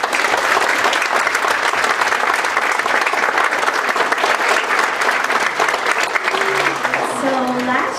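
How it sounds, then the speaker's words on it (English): An audience applauds at a Minden High School winter band and choir concert, with dense, sustained clapping filling the room, and a voice begins speaking as the applause fades. "So some round of applause."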